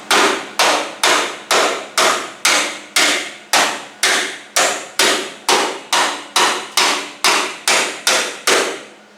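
Hammer blows shape sheet metal on the floor pan of a 1970 Cougar: about twenty evenly spaced, ringing metallic strikes in a steady rhythm, loud and close with no talking.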